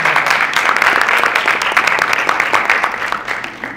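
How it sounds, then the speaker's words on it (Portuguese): Theatre audience applauding a guest speaker at a modern art week event, a dense, steady burst of many hands clapping loudly and close, fading slightly toward the end. "Salve de palmas pro João."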